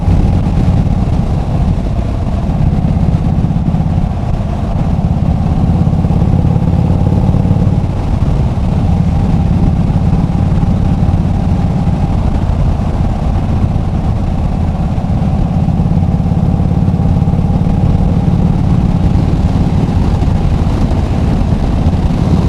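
A 2022 Indian Super Chief Limited motorcycle rumbles steadily while riding, its deep low engine drone continuous and loud throughout, captured through a helmet-mounted microphone with wind hiss layered on top and no talking.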